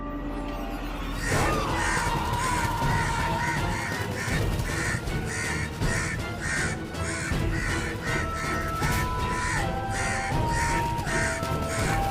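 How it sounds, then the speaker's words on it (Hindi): A large flock of crows caws loudly and continuously, with overlapping harsh calls repeating in dense bursts throughout, alongside a faint sustained tone. "इतने सारे कौवे।"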